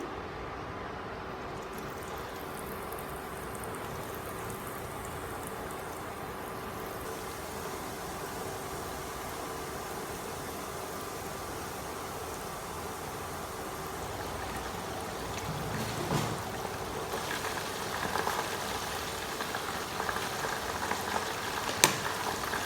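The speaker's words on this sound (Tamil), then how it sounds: "இப்போ நான் முதல் தரம் சிக்கனை போட்டு பொரிக்க போகிறேன்." Steady, dense bubbling and crackling of Korean fried chicken deep frying in hot oil, continuous and close, growing slightly busier toward the end.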